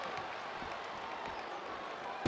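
Capacity arena crowd in the wrestling game WWE SmackDown vs. Raw 2007, a steady wash of applause and crowd noise throughout with a louder burst at the very end.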